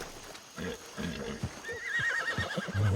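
A horse in a video game whinnies in a long wavering call over low thuds and background noise, fairly close and loud.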